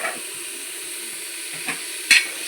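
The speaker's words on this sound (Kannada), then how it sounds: "ಸ್ವಲ್ಪ ಇದು ಫ್ರೈ ಆಗಿದೆ ತುಪ್ಪದಲ್ಲಿ" Cut vegetables fry in ghee for a pulao, giving a steady close sizzle with a few soft stirring scrapes and one sharp metallic tap near the end.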